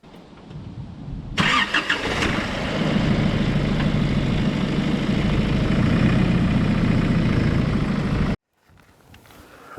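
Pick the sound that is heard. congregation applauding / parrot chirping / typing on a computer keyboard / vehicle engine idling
vehicle engine idling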